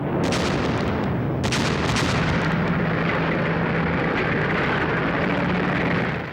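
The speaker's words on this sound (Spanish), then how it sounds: "A continuación tendría lugar un bombardeo demoledor de la artillería." A World War II artillery bombardment booms out in a loud, dense barrage, with a few sharp blasts early on over a continuous rumbling roar.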